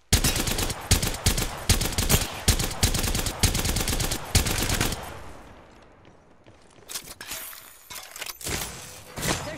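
Rapid bursts of gunfire in Apex Legends, loud and close, with dense volleys for several seconds, a brief quieter lull, then more sharp shots resuming.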